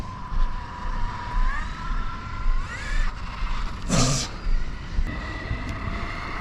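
A LOSI Super Baja Rey 2.0 large-scale RC truck driving at half throttle, its electric motor whining steadily and rising in pitch, with a brief burst of tire scrub or skid mid-run, moderately close.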